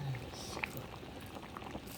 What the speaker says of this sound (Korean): 보글보글